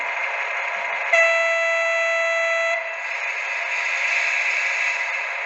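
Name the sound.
horn of a Modelbex BB 63593 model diesel locomotive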